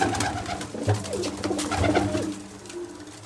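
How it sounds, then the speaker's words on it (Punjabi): Pigeons, including a female being paired, coo in low, throaty, rolling calls, close by and continuous, with no other voices. "ਆ ਕਬੂਤਰੀ ਚੈੱਕ ਕਰ ਲਓ"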